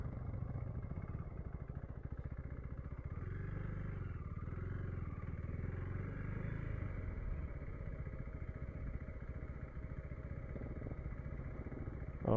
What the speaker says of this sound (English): Dave wants to do a wheelie up here